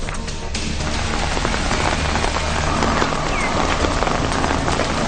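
Heavy rain pours steadily and loudly across the whole stretch, a dense, unbroken hiss of drops hitting surfaces with no voices.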